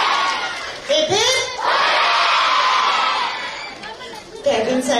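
A hall full of schoolchildren at a Founder's Day event bursts into a loud, sustained hooray, the cheer swelling for a few seconds before fading as fresh shouts and whoops begin again.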